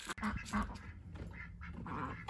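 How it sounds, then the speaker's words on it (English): Ducks quacking near chickens give a few short nasal quacks close by at the start, followed by quieter, scattered honking calls over low outdoor background noise. "The chickens are standing together and they watch the ducks go by."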